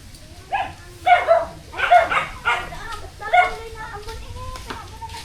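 A dog barks several times in a loose series of sharp yelps, fairly close, with people talking in the background.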